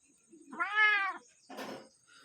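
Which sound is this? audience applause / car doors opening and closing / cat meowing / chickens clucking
cat meowing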